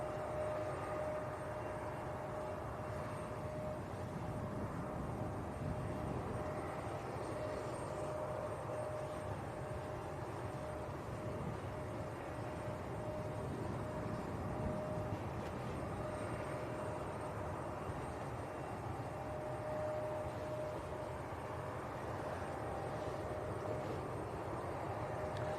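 A KLM airliner idles before taxiing at Leeds Bradford Airport, a constant distant engine hum with a steady whine, unchanging and moderately quiet throughout, with no talking.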